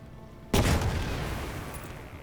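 Gunfire aimed at an unidentified target in a World War II turn-based strategy game: one sudden loud blast, with a broad rumbling boom that rings on and slowly fades.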